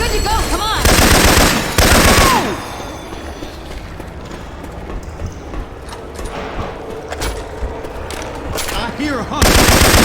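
Syphon Filter weapon sounds fire in Left 4 Dead 2, loud rapid automatic bursts at the start and again at the end, with quieter scattered shots and voices in between.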